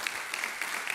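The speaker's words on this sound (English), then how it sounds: "So if I can ask for a round of applause for those new partners." Applause from a conference audience for new partners joining a climate resilience campaign, a steady, dense wash of clapping that fills the whole moment at moderate distance with no talk over it.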